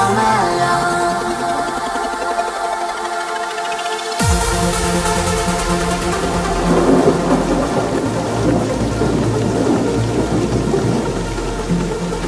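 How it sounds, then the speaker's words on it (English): Thunder rolls and cracks loudly over steady heavy rain in a melodic trance track, with a sharp thunderclap partway through followed by a long rumble, all layered with sustained synth tones. "the sound of roaring thunder moans along"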